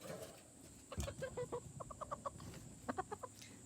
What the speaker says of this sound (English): She's one of our chickens, and she really likes for me to hold her.